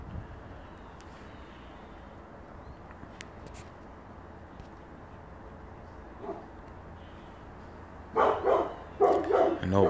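After a stretch of quiet background noise, several dogs in a kennel bark in short, repeated bursts toward the end.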